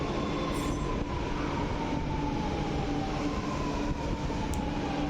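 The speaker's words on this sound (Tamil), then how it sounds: "இப்போ ட்ரெயின் வந்துச்சு, காட்டுத்தாங்கல் போகிற ட்ரெயின்." A Chennai Metro train bound for Kattuthangal pulls into the station, giving a steady loud rumble of rail and wagon noise with a faint wheel squeal and a high whine held throughout.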